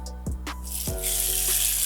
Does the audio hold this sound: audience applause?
no